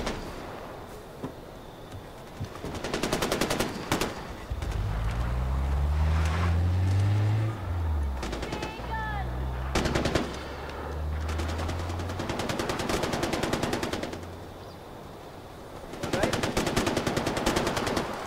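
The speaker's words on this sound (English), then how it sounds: "they're just firing up in the air" Rapid automatic gunfire is shot into the air in Far Cry 4, arriving in repeated long bursts over engine and wind noise, with people chatting during the game.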